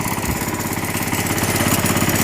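Walk-behind tractor engine chugging through deep snow, a loud, continuous throbbing putter with a steady rapid beat, close up.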